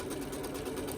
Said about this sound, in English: I am going to sew a 1/4 inch seam right there